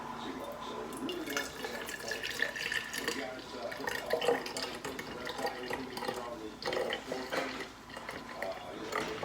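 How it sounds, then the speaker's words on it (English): Buttermilk being poured off freshly churned homemade sweet cream butter, a steady liquid trickle and splashing running throughout, with a voice talking over it at times. "I'm going to pour the buttermilk off of the butter."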